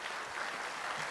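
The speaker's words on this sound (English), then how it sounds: "I can hear the clapping of only people who have come with them" Scattered audience clapping at an alumni convention, a steady, thin patter of hands from a modest crowd, moderately distant and without talk.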